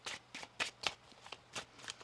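Tarot cards shuffled by hand at close range, a string of about eight quick riffling flutters at an even, brisk pace, fairly soft and with no talking over them.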